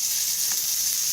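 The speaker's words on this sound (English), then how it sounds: "Oh, they're just going to sizzle away." Lamb chops sizzle in a hot skillet, a steady close hiss of frying with no pauses.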